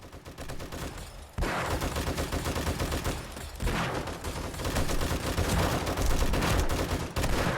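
Modded weapons and automated turrets in the zombie survival game 7 Days to Die unleash loud, continuous rapid-fire gunfire, dense overlapping bursts that pause briefly before resuming at full intensity.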